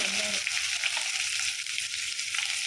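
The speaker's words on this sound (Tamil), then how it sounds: "கொஞ்சமாக வந்து கொத்தமல்லி கருவேப்பிலை எல்லாம் போட்டு நல்லா கொஞ்சம் வதக்கிக்கணும்" Onions, coriander and curry leaves sizzle steadily in hot oil in a pan, frying for samosa filling; a close, continuous crackling hiss with no talking.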